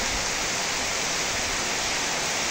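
Heavy rain pouring down at Pakutia bazar in Nagarpur, Tangail, during a cyclone, a loud unbroken roar of dense falling water with no other sounds.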